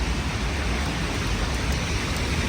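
Steady rain falls in Lviv as a continuous, dense hiss of drops on surfaces. It stays even throughout, with no voices.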